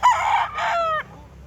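A rooster at a chicken expo in Carbon Public Market, Cebu City, crows once loudly and close, a harmonic two-part call of about a second that tails off into quieter market background.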